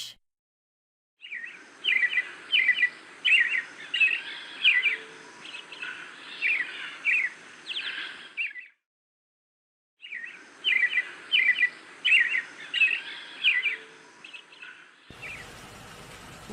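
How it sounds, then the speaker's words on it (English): A thrush sings two long, rich phrases of rapid fluting and trilled notes, a short gap between them, close and clean, ending on a brief burst of noise. "Thrush."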